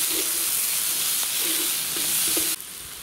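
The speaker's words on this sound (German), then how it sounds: "Und die werden wir jetzt erstmal in der Pfanne schön scharf anbraten." Sausages and bell pepper pieces sizzle hard in a hot pan with a loud, steady hiss, broken by a few soft stirring scrapes before the sizzle drops suddenly near the end.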